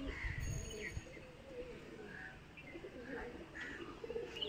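Pigeons set loose into the sky give faint, low coos mixed with light chirps against a steady outdoor background, fairly distant and soft throughout.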